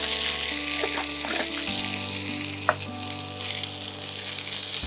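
Yogurt hits a hot pan for Armenian-style khichuri, giving a steady broad sizzle with a few soft clinks of stirring over a low hum, close and continuous.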